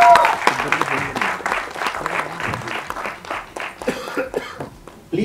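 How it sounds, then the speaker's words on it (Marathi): Audience applause at a Marathi film trailer launch event, bursts of clapping mixed with voices and crowd chatter that rise and fall unevenly, swelling again near the end. "एकदा जोरदार टाळ्या झाला पाहिजे."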